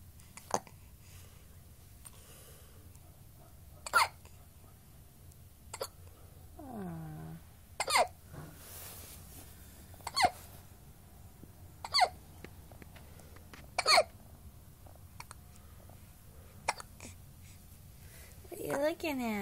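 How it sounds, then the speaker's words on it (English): A baby hiccups several times, with sharp, isolated little hiccups spaced a few seconds apart over a quiet room, and a soft voice occasionally murmuring between them. "You had the hiccups"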